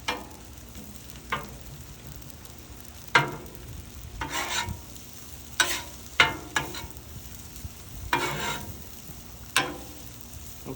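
Fried rice cooking on a Blackstone tabletop griddle: a low, steady sizzle runs throughout, broken by several sharp spatula scrapes and clacks against the metal surface as the rice is spread out, close and moderately loud with no talking.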